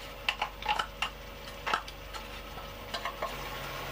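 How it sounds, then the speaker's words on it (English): Tuna heats through in a pan on a gas stove in a narrowboat galley: close, light scraping and clinking of stirring over a soft, steady sizzle, with a few sharper taps. "Stick the tuna in there and let that heat through."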